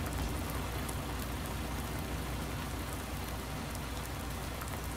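Rain pours steadily in Farming Simulator 19, a dense, even hiss of drops on surfaces that holds at a constant level throughout, with no voices.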